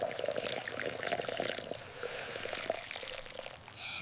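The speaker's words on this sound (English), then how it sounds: "I pour the water." Water is poured into flour while making bread dough, a continuous splashing trickle running steadily for several seconds, close and clear with no talking.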